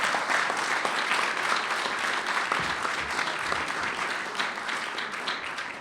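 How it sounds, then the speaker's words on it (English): A luncheon audience at the National Press Club gives the guest speaker a steady round of applause. The thick, continuous clapping slowly fades toward the end. "How about a round of applause for our speaker today?"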